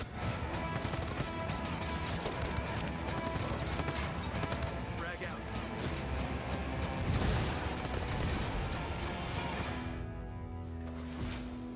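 Rapid gunfire and heavy bursts from the tactical shooter video game Ghost Recon in a jungle setting, loud and dense throughout with crashing impacts, set against a continuous music-laden game mix.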